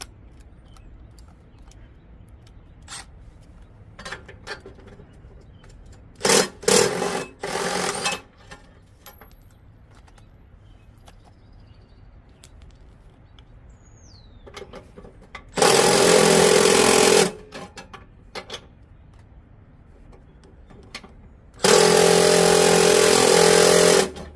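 An impact wrench removes 14mm nuts from a Billy Goat PR550-H power rake. Three loud, buzzing bursts of a few seconds each are separated by quiet workshop pauses.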